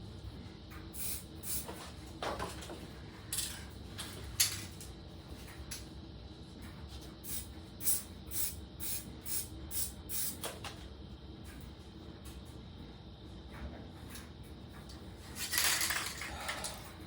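An aerosol spray paint can used for stenciling gives a short burst of hissing near the end, after scattered light clinks and taps from handling cans in a quiet studio.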